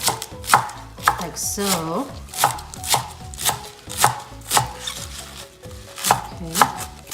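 Steady knife chopping of raw beef on a board for a Khmer raw beef salad, close and rhythmic with regular strikes and a few brief pauses, a voice speaking briefly near the end.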